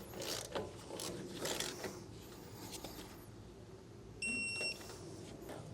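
Bolts being tightened in a star pattern on a trailer hub backing plate: soft ratchet clicking and mechanical rattles over a steady background hiss, faint and close, with a brief electronic beep near the end and no talk.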